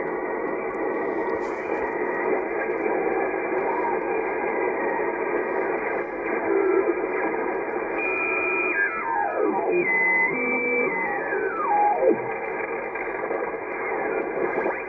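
Radio static received on a gutter antenna, a steady band-limited hiss with faint sweeping whistles and warbling tones drifting through partway, moderately loud and continuous with no talking.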